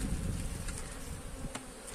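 A dense, steady buzz from a crowded hive of honey bees, heard up close and continuous with no talking.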